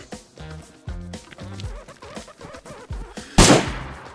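Gunfire in the video game DayZ: a series of sharp, punchy shots with low booms, spaced irregularly, then one loud close blast near the end, with faint chatter in the background.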